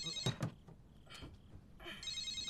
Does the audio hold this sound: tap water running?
no